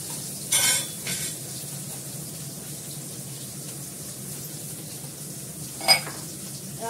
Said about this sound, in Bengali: মাছটা একটু ভালো করে ভাজবো, লাল করে